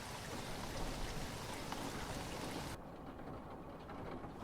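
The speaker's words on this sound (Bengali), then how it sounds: "বাইরে রিমঝিম বৃষ্টি হচ্ছে" Steady, soft patter of light rain, continuous throughout with a slight shift in tone partway through.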